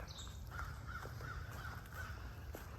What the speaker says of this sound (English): Birds are waking up, chirping